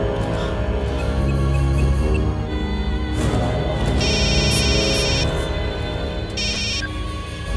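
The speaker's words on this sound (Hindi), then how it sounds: "साशा ने अभी भी फोन किया था" A telephone rings in an indoor film scene, its bright electronic trill coming in two bursts over a dense background of music and ambience, moderately loud and close.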